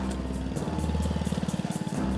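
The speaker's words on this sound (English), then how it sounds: "drills holes in the ice at 60-foot intervals across the lake" Motorized auger drilling a hole into lake ice, a close, steady engine drone with a rhythmic pulsing as the bit bites and spins through the ice.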